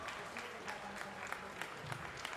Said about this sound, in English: let's hear a big round of applause for Lug Tread.